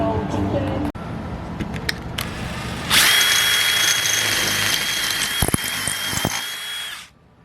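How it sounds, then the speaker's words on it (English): A power drill grinds loudly and steadily through hard metal while a solar panel is installed, for several seconds, with quieter clatter and handling noise before it starts. "So that was hard to drill through, but it's done"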